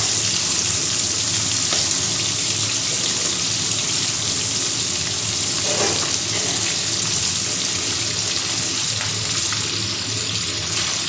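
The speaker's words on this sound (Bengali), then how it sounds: "জাস্ট একটু উল্টে পাল্টে মাছগুলোকে ভেজে নিতে হয়।" Magur catfish frying in oil in a pan give a steady, loud, dense hiss and sizzle that carries on without a break throughout.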